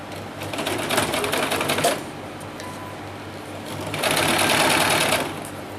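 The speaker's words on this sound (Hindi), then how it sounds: "ये बाजू के ऊपर इस तरह से सिलाई लगा ली है मैंने।" Household sewing machine stitching a sleeve for a small summer jhabla dress, fast rattling runs in two bursts with a quieter idle pause between, close and loud.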